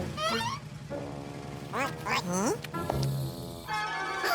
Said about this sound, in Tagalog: Mag-ingat! May isang pato sa daan!